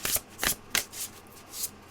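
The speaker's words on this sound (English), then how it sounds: "I'm going to shuffle until I get one." A deck of oracle cards is shuffled close by in quick separate riffles, giving about six crisp bursts of rustling and snapping with short pauses between them.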